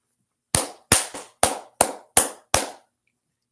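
Hand claps in a loose, fairly even series of seven, sharp, loud and close, with no talking over them.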